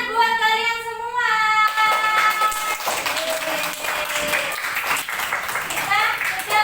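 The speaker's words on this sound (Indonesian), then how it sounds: "Tepuk tangan buat kalian semua." Children in a classroom clap together under a lively mix of young voices, the clapping continuing steadily with talk and calls over it throughout.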